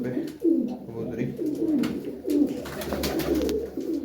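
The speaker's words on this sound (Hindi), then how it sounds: "वो फिर बैठ गई विंडो पे कबूतरी" Soft, low cooing from a female pigeon perched at a window repeats in a slow rhythm, several rolling calls close by, with faint background noise and a few light rustles.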